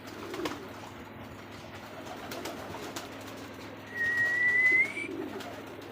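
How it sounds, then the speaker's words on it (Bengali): Pigeons of a costly breed eat paddy grain from a hand, with soft cooing, a brief clear whistled call near the end, and a low ambient murmur throughout. "এই কবুতরগুলো আমার হাত থেকে ধান খাইতে আছে।"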